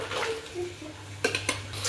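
A spoon clinks and scrapes against a metal pot as a country chicken curry with added water is stirred, two sharp knocks standing out over a quiet watery slosh.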